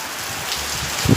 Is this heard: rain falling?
yes